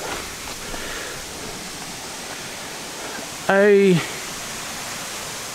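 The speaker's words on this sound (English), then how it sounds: "A waterfall of sorts." Small waterfall at Oughtonhead near Hitchin, a steady soft rushing hiss of falling water that runs throughout, briefly interrupted by a short spoken word partway through.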